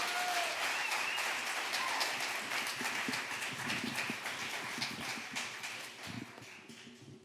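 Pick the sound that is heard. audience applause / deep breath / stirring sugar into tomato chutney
audience applause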